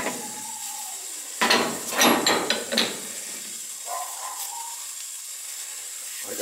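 Two 18-inch wrenches strain against a stuck relief valve fitting on a leaking boiler, giving a cluster of creaking, ratcheting metal bursts over a steady background hiss.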